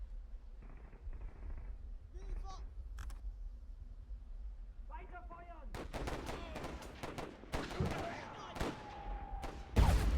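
Mortar rounds and gunfire in the video game Warfare 1917/1944: creaks and scattered shots build into a dense run of sharp reports and blasts, ending in a loud low boom.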